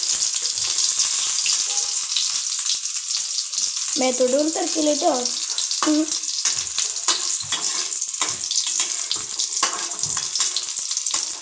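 Banana stem (pindi) pieces fry in hot oil with a constant, loud, crackling sizzle, while a voice speaks briefly partway through.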